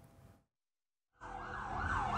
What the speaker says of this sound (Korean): 다급한 사이렌 소리가 울리고